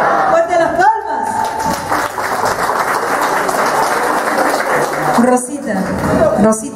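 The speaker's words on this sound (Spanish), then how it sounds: "Fuerte las palmas." A crowd at a 50th birthday party claps along, a steady dense patter of hands mixed with voices and a brief sung or spoken phrase near the start and end.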